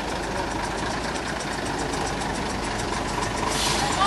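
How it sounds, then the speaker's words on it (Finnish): Steady idling engine of a motorcycle running close by at a vintage machinery show, a constant throbbing mechanical hum that stays level for about four seconds amid outdoor background noise. "Moottoripyörä siinä aika lähellä."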